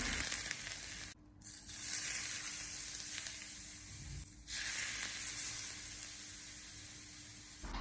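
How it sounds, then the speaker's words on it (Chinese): Minced garlic sizzles steadily in hot oil, a close, continuous frying hiss broken by two brief dips, likely from stirring. "接着我们再用高油温将蒜蓉给它炝香，将蒜蓉给它激发出香味"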